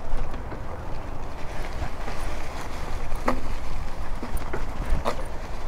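A Stunner X bike rolls through mud off-road, a rough, continuous churning rumble with wind buffeting and a few brief clicks and squelches, close and fairly loud.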